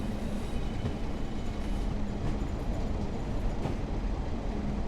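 Class 142 Pacer diesel railbus picking up speed in a train simulator, a steady low engine drone with rail rumble and wheel noise, continuous and fairly close throughout.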